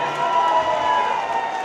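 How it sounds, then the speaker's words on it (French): Gala audience cheering and clapping for the DJ at a charity event, a dense sustained crowd roar with a tone running under it, heard from within the room. "Pour notre DJ, est-ce que vous pouvez applaudir très fort pour vous?"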